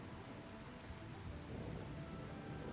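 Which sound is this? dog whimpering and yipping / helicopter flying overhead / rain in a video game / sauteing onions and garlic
rain in a video game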